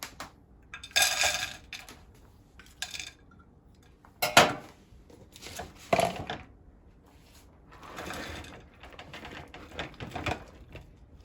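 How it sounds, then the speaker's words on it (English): Chopped cauliflower, onion, chicken breast and peas go into a pan in several separate bursts of clattering and rustling, close and moderately loud, with quiet gaps between them. "Put it all into the pan"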